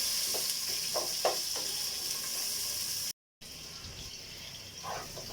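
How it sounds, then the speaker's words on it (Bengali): Three onions cut into round slices fry lightly in oil for egg biryani, a steady close sizzle with a few soft stirring scrapes, one brief dropout, and no voices. "এখন এই 3টা পেঁয়াজ দিয়ে দেব। পেঁয়াজ 3টা হালকা ভেজে নেব"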